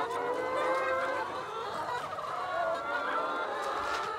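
Laying hens clucking outdoors on a free-range egg farm, a dense overlapping chorus of many birds, steady and fairly close, with no talking.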